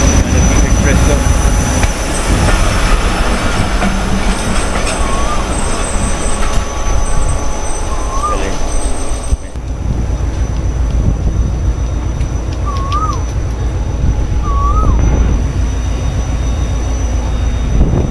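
The Shah Latif Express passenger train pulls into a railway station in Pakistan, a steady loud rumble of wheels and carriages with faint squeals and a few short horn-like tones, under occasional talk.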